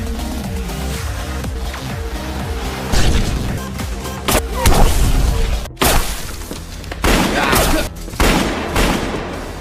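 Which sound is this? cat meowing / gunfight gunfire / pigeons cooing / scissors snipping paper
gunfight gunfire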